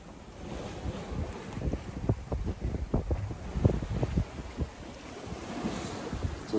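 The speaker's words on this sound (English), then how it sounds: "Just listening to the waves go by." Waves wash past a sailboat at sea off the northwest coast of Portugal and Spain, a run of close splashes and sloshes heard from the cockpit over steady wind noise.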